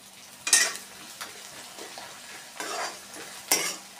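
Onion and spice paste fry in a pan as the onion browns, with a steady sizzle and several scraping stir strokes of a spatula, heard up close without speech.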